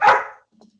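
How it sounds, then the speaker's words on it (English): A dog outdoors barks once, loud and close, while someone hoses it down, followed by a faint trailing whimper. "There's somebody outside hosing the dog. dog is going crazy."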